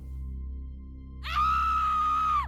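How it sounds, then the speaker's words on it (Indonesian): A woman's loud, sustained scream bursts out from inside a house after a quiet, low-humming stretch, holding one high shrill pitch for about a second before cutting off. "dari dalam rumah itu kedengeran suara teriakan perempuan kenceng banget"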